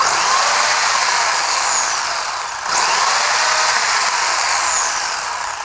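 A WLtoys 144001 RC car with an upgraded brushed motor on 2S whines loudly at high speed, a steady buzzing drone that dips briefly midway before winding back up.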